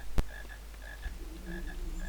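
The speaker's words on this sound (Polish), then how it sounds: "Okej, żaby. Dużo żab" Frogs croak in a Harry Potter and the Philosopher's Stone video game, a short repeated chorus of calls over a steady low hum, with one sharp louder hit near the start.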